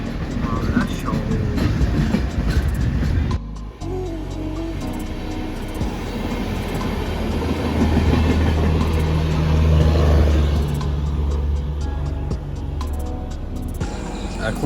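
A train running on the Siliguri to Kolkata route near New Farakka and Malda gives off a steady, loud rumble with rattling and clatter throughout, and a brief dip in level around the fourth second.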